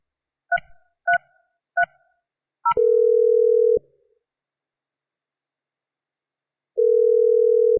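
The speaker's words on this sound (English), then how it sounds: "Follow the prompts to make a call." A Mitel 5340 IP phone dialing a call: four short, evenly spaced keypad tones, then a steady one-second tone, a pause of about three seconds, and the same tone again, loud and clear.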